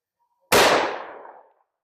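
A single sharp, loud report from an M&P pistol firing a .357 Sig round into ballistic gel, heard alone, with a quick decaying echo after the shot.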